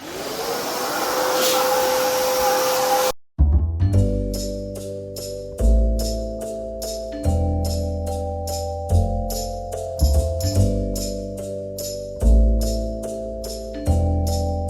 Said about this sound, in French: faut toujours passer un petit coup d'aspirateur dans les rainures